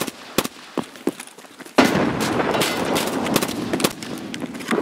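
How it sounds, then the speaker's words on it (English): In a video game firefight, a few sharp scattered shots crack before a thrown grenade goes off in a loud, close blast that rolls into a sustained rumble, with more gunfire popping on top. "I threw a nade by the fire escape."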